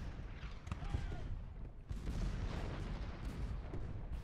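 Civil War artillery and musketry rumble continuously in an Ultimate General: Gettysburg battle, a low, distant roar of booms with overlapping shots and no distinct single blast.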